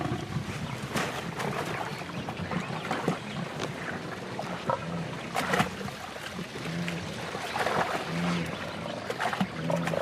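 A lioness seizes a gnu by the throat during a hunt, with continuous rough growls, grunts and struggling noises that stay dense and loud throughout.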